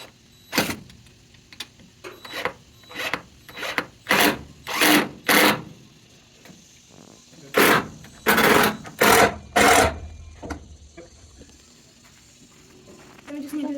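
A power drill or driver drives screws into a wooden 2x4 board on a goat and turkey barn frame, giving a series of short loud whirring bursts with pauses, people talking in between.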